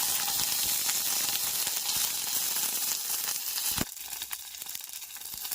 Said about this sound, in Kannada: ಎಣ್ಣೆ ಕಾದಿದೆ, ಸಾಸಿವೆ ಹಾಕ್ತಾಯಿದ್ದೀನಿ, ಒಣಮೆಣಸಿನ್ಕಾಯಿ, ಕರಿಬೇವು